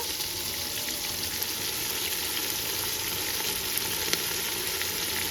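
Chopped coriander and mint frying in a pan for chicken dum biryani give a steady, close sizzle with faint stirring scrapes throughout.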